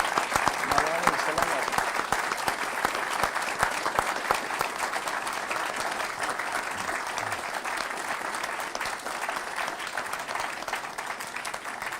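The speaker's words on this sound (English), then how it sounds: "please help me give a round of applause to Mr." A large audience applauds the President at a security studies center speaker event, a dense, steady roar of many hands clapping that holds loud and even for the full stretch.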